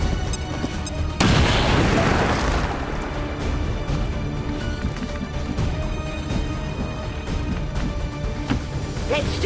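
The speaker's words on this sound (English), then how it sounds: "So what I'm going to do is I'm just going to grenade him" A grenade detonates in XCOM 2 with a loud, sudden boom and crashing burst, followed by rumbling debris and lingering game ambience and music under it.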